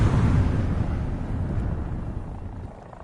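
A helicopter in a tank combat video game, a loud rumbling rotor and engine roar that slowly fades as it moves away, with no voices over it.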